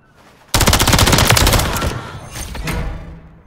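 Sudden loud automatic gunfire in Modern Warfare 3, a close rapid burst lasting a couple of seconds that fades into a lingering, echoing tail.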